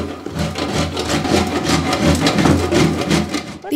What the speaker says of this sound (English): Now I'm taking a piece of soap and I'm about to grate it.